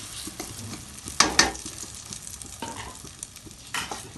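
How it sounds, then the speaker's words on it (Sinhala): Egg mixture hits hot oil and sizzles steadily, close and fairly quiet, with a couple of sharp spattering crackles and stirring clatter partway through. "අපි තෙල් රත් වූ පසු මේ භාගයක් දාලා බිත්තර මිශ්‍රණය"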